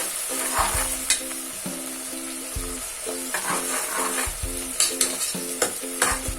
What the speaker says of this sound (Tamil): ஆனியன் நல்லா மிக்ஸ் பண்ணி விட்டுருவோம்.